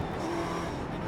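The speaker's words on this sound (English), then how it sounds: "A very powerful car, V8 engine," Powerful V8 engine of a rear-wheel-drive Ford Mustang race car in iRacing's Skip Barber Mustang Challenge, a steady loud drone held throughout with no pause and no talk.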